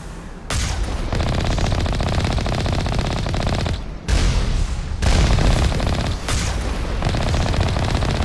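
Sustained automatic gunfire in Mass Effect Legendary Edition, loud rapid bursts filling the clip with brief gaps between volleys and heavy low thumps, no talking.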